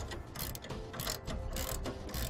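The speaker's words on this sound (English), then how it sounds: "Now it uses a 3/4 inch wrench or socket, and you'll have to provide your own tools." A 3/4 inch wrench or socket tightening the bolt on a Hollywood Racks Trail Rider bike rack: rapid repeated ratcheting clicks in short, close bursts, quiet and mechanical, with no talking.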